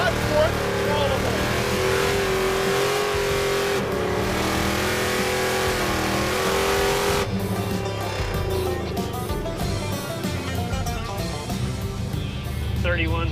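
Chevy muscle truck fitted with a four-link suspension, engine roaring steadily as it accelerates hard in first gear, a loud sustained rev heard from inside the cab while people talk over it.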